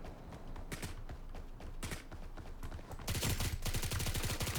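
APB pistol gunfire in the BRM5 video game, a series of sharp shots, first scattered single cracks and then a rapid dense burst near the end, loud and close without talk.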